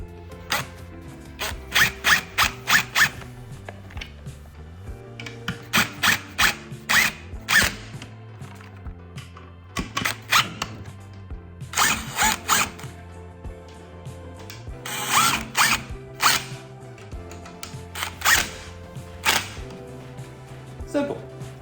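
Screws sinking into threaded inserts while assembling a LitFad extendable Runaway camper bed frame, heard as repeated bursts of short ratcheting, clicking driver runs with pauses between them, close up, under occasional talk.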